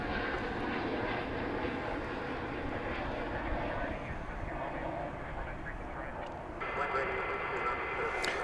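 A Boeing 787 Dreamliner departing DFW Airport at night, a continuous broad jet engine roar at moderate distance with a voice talking over it.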